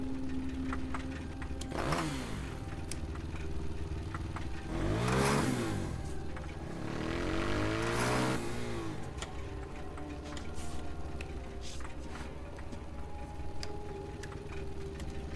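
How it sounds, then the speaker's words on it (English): A motorcycle engine in the video game Dead Rising 2 revs in a few rising and falling swells over a low steady idle, moderately close, with no talk. "I guess he working on his motorcycle or whatever."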